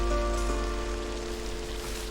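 Monsoon rain falling in the Borneo rainforest, a dense steady downpour that patters and hisses continuously across the whole stretch with no pauses.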